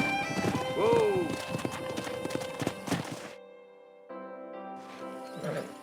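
Horse hooves clip-clopping on ground with a loud whinny in the Red Dead Redemption video game, rhythmic steps under a man's speech, then a quieter pause before hoofbeats and snorting return.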